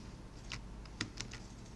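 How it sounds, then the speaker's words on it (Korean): Computer keyboard arrow keys pressed while navigating a Twinmotion 3D scene, a few soft separate clicks near 0.5, 1.0 and 1.2 seconds over a quiet room background. "거실 부분 키보드 화살표기로 움직이시면 되죠"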